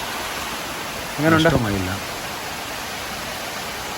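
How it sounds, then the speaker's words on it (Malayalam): Steady broadband rush of water falling straight down in a forest, a constant wash of spray throughout, with someone briefly speaking over it. "ഈ വെള്ളം നേരെ താഴോട്ട് ഇങ്ങനെ ഒഴുകുവാണ്"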